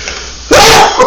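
A single loud, abrupt sneeze bursts out after a quiet moment, followed by a brief fainter exhale.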